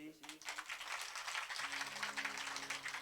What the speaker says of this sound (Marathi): तुमच्या टाळ्या चांगल्या वाजल्या